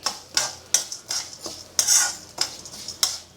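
Spices and salt roast in a pan on low heat while a utensil scrapes them around in quick, regular strokes, about eight sharp scrapes in a few seconds, close and clear with no talking.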